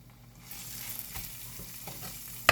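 Curry and ginger sizzle and fry in a hot pan, a steady crackling hiss with soft stirring scrapes and a sharp clatter at the very end, no voices.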